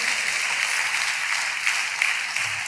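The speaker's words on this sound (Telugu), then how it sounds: "చప్పట్లు కొడుతూ దేవునికి స్తోత్రాలు చెప్దాం" A church congregation clapping hands together in praise during worship, a dense, steady wash of applause filling the whole short stretch at a moderate distance.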